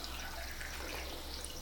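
Tap water runs steadily into a bathroom sink during tooth brushing, a faint, continuous hiss with light splashing and no talking.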